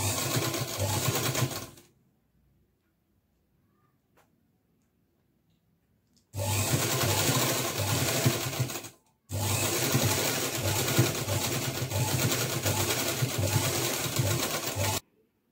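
Sewing machine stitching along the edge of net fabric for a party frock: a loud close rattling run, a few seconds of silence, then two more long continuous runs separated by a brief pause.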